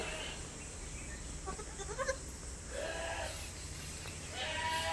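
Goats bleating at a farm livestock sale, a few short wavering calls rising over steady background noise, fairly distant and soft, with no talk.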